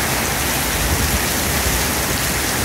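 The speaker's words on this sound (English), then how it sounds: "It's raining like heck right now, so I wanted to get a picture of how hard the rain comes down." Heavy rain pours down hard on a street near Walking Street in Pattaya, a steady, loud, unbroken hiss of water that lasts throughout, with no voices.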